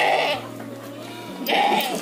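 A three-week-old female Boer cross goat kid bleats twice at close range, loud nasal cries separated by a brief pause in a quiet room.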